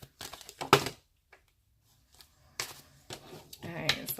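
Tarot cards shuffled by hand in short, brisk bursts of papery riffling and slapping, close and fairly loud, separated by quiet gaps.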